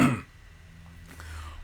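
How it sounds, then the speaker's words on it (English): A single short throat clearing, close and fairly loud at the start, followed by quiet room tone with a faint low hum. "Clearing my throat now"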